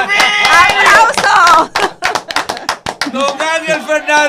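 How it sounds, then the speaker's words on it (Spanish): A studio audience at a sports-themed prize game show applauds a contestant who has won 3,000 pesos. A short run of sharp, scattered claps sits between loud speech at the start and end. "¡Aplauso!"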